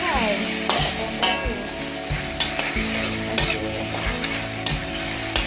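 Rice vermicelli (bihun goreng) seasoned with Adabi paste sizzles in a hot pan while a utensil stirs and scrapes it in quick repeated clanks, the frying hiss steady and close throughout.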